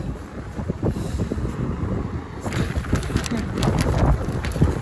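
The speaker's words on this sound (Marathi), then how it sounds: "हवा खूप सुटली आज" Strong wind gusts rumble steadily across the microphone outdoors near a market, a continuous buffeting roar that swells midway, with faint background clatter beneath.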